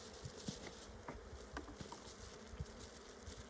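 Honeybees buzz around an open, healthy hive during a spring inspection, a faint, steady hum of many insects with a few louder passes close by, and no talking.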